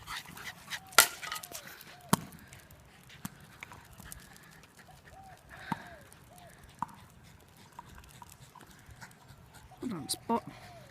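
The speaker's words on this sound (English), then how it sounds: "I'm just going to film the dogs now." Dogs outdoors pant steadily and give several short whimpers and yips, close by and moderately quiet, with scattered thumps and a person speaking in between.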